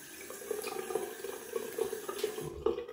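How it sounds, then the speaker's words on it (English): Cold water runs steadily from a bathroom tap with splashing and gurgling as hands scoop it onto a face, ending with a quick stop and a final splash. "Take some cold water on my face."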